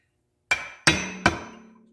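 A hammer drives a 1/8 inch punch against a tiny roll pin on a Polaris RZR 1000 XP: three sharp metallic strikes close by, the last one ringing on briefly.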